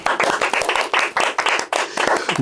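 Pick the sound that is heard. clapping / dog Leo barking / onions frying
clapping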